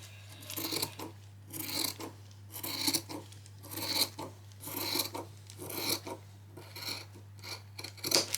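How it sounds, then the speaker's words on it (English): Scissors cut through folded fabric for a child's spring outfit, giving repeated crisp snipping and rasping strokes in a fairly even rhythm, close and moderately quiet over a faint steady hum. "Okay, so we're cutting that one on the fold, and it stays on the fold."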